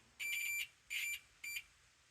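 A multimeter gives three short, clear continuity beeps, two longer and one brief, during steering wheel and throttle cable repair on a 1951 GMC 100 truck, with no talking.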